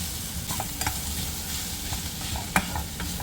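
Mashed boiled potato being stirred into a bowl of mixture for crispy rolls, a soft wet squelching and scraping with a few sharper spoon clicks against the bowl, close and fairly steady, no voices.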